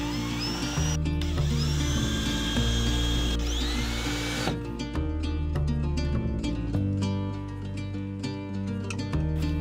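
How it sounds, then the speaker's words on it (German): A power screwdriver drives screws into pre-cut wood at a forest cabin with no water supply, a loud, close whine in repeated bursts of rising and falling pitch. "nur noch dran schrauben."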